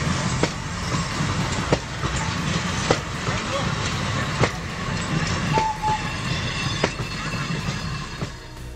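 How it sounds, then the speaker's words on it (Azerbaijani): Freight train wagons roll along the rails with steady rumbling and repeated sharp clicks from the wheels over track joints, running continuously at a moderate distance with a faint high squeal near the middle. "Onlar yük vaqonlarında Almaniyaya yola salınır."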